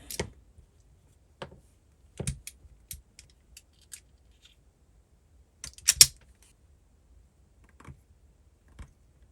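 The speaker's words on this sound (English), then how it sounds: "So let me cut this wire" Wire on a cheap COB headlamp is snipped with a cutter, giving a scatter of sharp close clicks and small snaps spread across a quiet background, with a louder cluster partway through.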